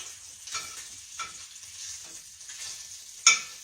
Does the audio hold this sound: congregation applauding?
no